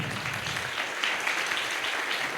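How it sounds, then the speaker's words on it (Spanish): Audience applause at a militant political event in Argentina, a steady wash of clapping from a crowd, moderately distant and continuous with no voices over it. "quiero dar un fuerte aplauso"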